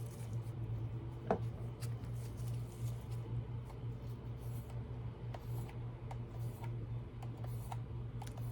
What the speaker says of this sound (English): It's almost just become natural now to use them when I'm stropping the knife.